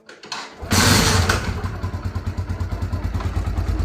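A TVS Victor BS6 motorcycle engine starting after a timing chain job: a brief cranking burst, then the engine catches and settles into a loud, steady, evenly pulsing idle close by.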